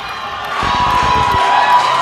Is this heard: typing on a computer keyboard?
no